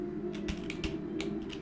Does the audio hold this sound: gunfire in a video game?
no